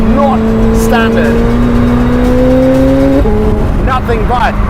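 A McLaren 765LT Spider with a Novitec exhaust drones loudly nearby, its engine note climbing slowly in pitch before dropping, while someone talks over it.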